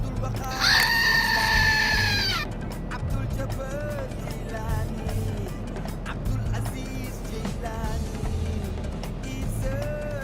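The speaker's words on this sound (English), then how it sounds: "That was a random goat scream." A goat screams loudly near the start in Microsoft Flight Simulator 2024, a harsh bleating cry lasting about two seconds over a steady aircraft engine drone that continues after it.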